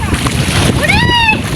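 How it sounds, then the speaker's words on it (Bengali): Wind-driven waves slosh and splash on a river, a steady close wash of water, with a brief rising tonal call partway through. "হাঁসগুলো নদীর পানিতে শুধু দুলতেছে, এত পরিমাণ বাতাস আর ঢেউ হচ্ছে"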